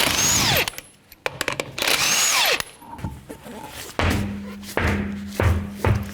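A power tool with a 21mm socket removes the front lug nuts on a 2006-2012 Toyota RAV4 2.4L. Several loud whirring bursts close by are broken up by metallic clanks and thuds, followed by lower grinding spins.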